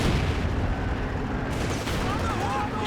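A Panzerschreck anti-tank rocket launcher fires in Company of Heroes 2, a loud blast that opens the clip and gives way to rumbling battlefield noise and scattered distant firing.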